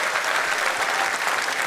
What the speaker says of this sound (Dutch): Ik wil ook voor hun een fantastisch applaus.